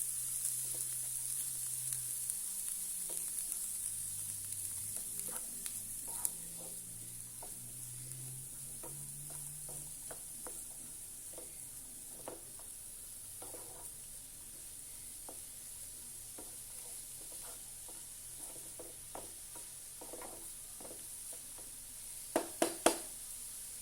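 Ingredients sautéing in a pan over a medium flame, a soft steady sizzle with faint scraping stirs and a few sharp clinks near the end, no voices.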